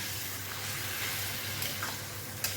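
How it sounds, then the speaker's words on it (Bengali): Potatoes frying with spices in a pan for a small hilsa fish curry, a steady soft sizzle with faint stirring scrapes, close and continuous, with no talking. "এখন এর মধ্যে আলুটাও দিয়ে দেবো তাহলে একসঙ্গে কষা কষা হয়ে যাবে"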